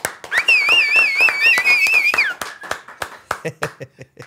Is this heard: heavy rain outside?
no